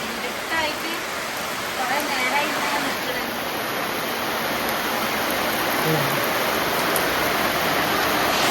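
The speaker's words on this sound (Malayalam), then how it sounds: "നല്ല മഴ" Heavy rain pours down steadily near a house, a dense, continuous hiss that stays loud throughout, with a faint voice now and then beneath it.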